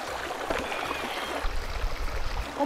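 Water runs from a shower in a camper van, a steady soft hiss and splash that continues throughout at moderate volume with no one speaking.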